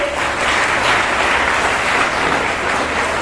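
Schoolgirls in a crowd applaud at a motivation program, a dense, steady clapping that holds loud and even from start to finish with no one speaking over it.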